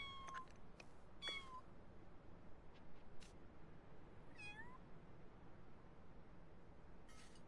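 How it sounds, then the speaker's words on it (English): A kitten in The Sims 4 gives several short, thin meows spaced through a quiet stretch, fairly faint and alone against soft background hiss. "Talk to the kitten."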